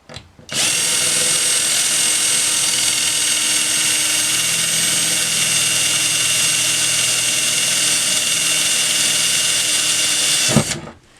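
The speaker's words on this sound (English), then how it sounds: "Drilling holes in your roof is terrifying." Power drill boring a hole through the metal roof of a campervan with a small bit, a loud steady high-pitched whine running continuously for about ten seconds, close up and alone, then stopping abruptly.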